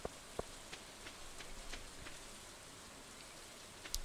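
Soft, steady rain pattering in the farming video game Stardew Valley, a quiet continuous hiss with a few sharper droplet taps standing out, no voices.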